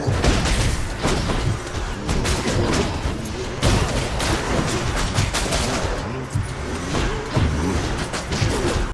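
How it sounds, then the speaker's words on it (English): Rapid automatic fire from a machine gun with a grenade launcher in the video game Hades, dense loud bursts with heavy booms running continuously, joined by cracks and crashes. "Did I mention there was a machine gun with a grenade launcher?"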